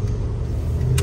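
A 1992 GMC Sierra C1500 stepside pickup with a 305 V8 accelerating onto a highway, its engine a steady low droning rumble heard from inside the cab, fairly loud and continuous with no talking.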